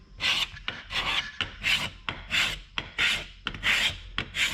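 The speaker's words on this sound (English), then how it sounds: "it shows that it's planing a layer off instead of just making sawdust" Hand plane shaving a layer of wood from a wooden boat's surface, a steady run of rhythmic rasping strokes, about seven close, loud passes with brief gaps between them and no talking.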